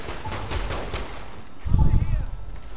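Bursts of gunfire from the video game Saints Row, rapid shots at first and then a louder, denser volley close up, with a player talking at points.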